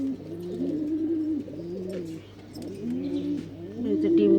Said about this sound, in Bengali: এই যে এটা একটা নতুন কবুতর